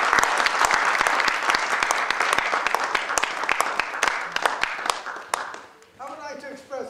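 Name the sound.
audience applause and clapping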